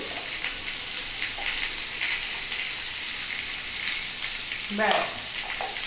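Vegetables frying in oil with turmeric and salt for a vegetable dal, giving a steady close sizzle with light stirring scrapes, plus a brief louder spatter near the end.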